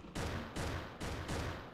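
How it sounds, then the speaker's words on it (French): Rapid bursts of gunfire in a Roblox survival shooter set in Area 51, four dense back-to-back volleys filling the clip, loud and continuous with no talk over them. "Des balles, des balles."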